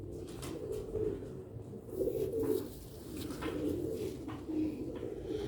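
Sialkoti pigeons, a pure Ali Arabi Farsi breed, coo in repeated low rolling bursts, close and moderately loud, with faint clicks between calls and no speech.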